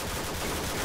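Rapid gunfire from a Call of Duty: Modern Warfare 2 Spec Ops match, a dense, steady burst of shots filling the whole short moment at moderate loudness with no voices over it.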